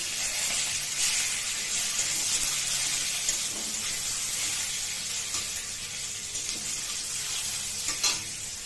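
Radhuni spice, green chili and tomato sizzle steadily in a hot pan of oil, with occasional clinks and scrapes of stirring; close and continuous, no talk.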